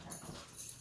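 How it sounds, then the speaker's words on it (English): Several pet dogs scuffling and tussling over a teddy bear indoors, with short growly, whiny bursts and panting running through a brief, fairly steady stretch. "my dogs are going crazy in the background"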